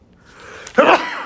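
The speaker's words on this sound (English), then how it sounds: "I'm about to sneeze." A single sharp sneeze bursts out after a brief intake of breath, close and loud.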